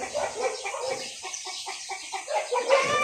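Chickens clucking close by in a quick run of short repeated clucks, with other bird calls scattered around and no talking.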